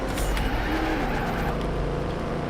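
Car engine drone and tire skid in the racing video game Trackmania Turbo, a steady loud roar with screeching slides throughout, no voices.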